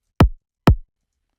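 Two deep kick drum hits without a click layer sound about half a second apart, each a soft, rounded thump with a quick low decay and no sharp attack, alone in silence.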